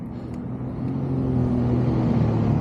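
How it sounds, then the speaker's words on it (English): A car rolls up behind a rollerblader and goes past on a windy day, its engine a steady low rumble that swells and holds loud and close under gusting wind noise. "There's a car right behind me. Let him go first."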